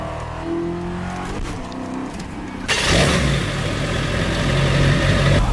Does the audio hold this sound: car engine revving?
yes